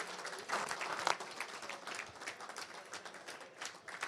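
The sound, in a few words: audience applause for conference sponsors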